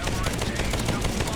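Rapid gunfire from a gun in the video game Bright Memory, a dense stream of repeated shots that is loud and continuous throughout.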